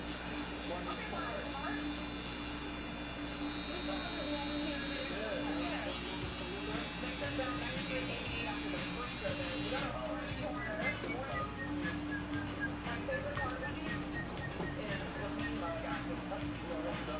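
An electric hair trimmer buzzing steadily through a haircut at a barbershop, a constant close hum with faint clipping crackle, while people talk over it.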